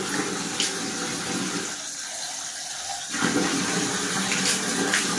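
Water runs from a tap into a sink while a face is being washed, a close, steady splashing gush that dips briefly and then returns fuller.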